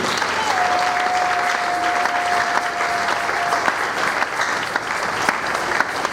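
Church congregation applauding for the preacher during a service, dense steady clapping across the whole stretch with crowd noise mixed in, loud and close, and a sustained tone briefly sounding over the applause early on.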